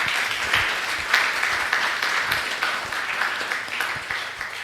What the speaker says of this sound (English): I think those ones deserve a much bigger applause